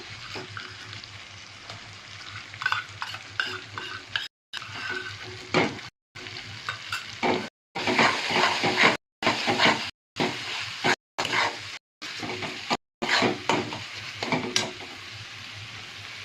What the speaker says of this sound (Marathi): आता मी टोमॅटो टाकते टाकते हे बघा